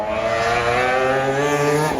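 A car with a six-rotor rotary engine revs loudly and smoothly, its buzzing harmonic tone holding steady and climbing slightly before dropping off at the end.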